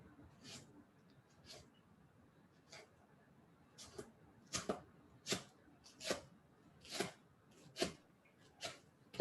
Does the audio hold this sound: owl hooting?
no